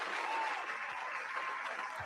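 A short burst of steady clapping from a small crowd, continuous and fairly even throughout.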